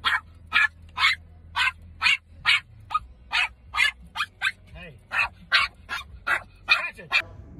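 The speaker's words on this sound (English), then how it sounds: "Lots of noise, lots of barking." A reactive two-year-old Yorkie barks repeatedly inside a car, sharp high yaps in a steady run of about fifteen, close and alone, with a faint whimper between some barks.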